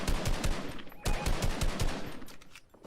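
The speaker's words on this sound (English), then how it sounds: "I'll start shooting at them." Rapid bursts of automatic gunfire in a shooter video game, loud and close, with dense repeated shots filling nearly three seconds and a brief gap near the middle, with no speech.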